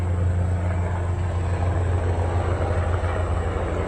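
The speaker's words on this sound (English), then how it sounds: "That is a helicopter." A military helicopter near Fort Rucker drones overhead with a steady, low, throbbing rotor rumble and engine whine, loud and constant throughout, with no voices.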